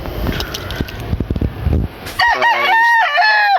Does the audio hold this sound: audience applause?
no